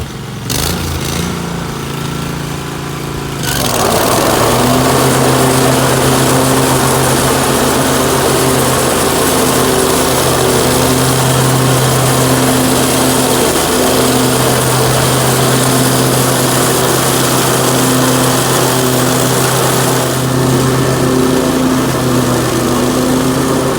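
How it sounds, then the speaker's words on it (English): A lawnmower cuts back liriope, its loud, steady buzzing engine starting up after a few quieter seconds and running continuously up close. "you could use a lawnmower and do it"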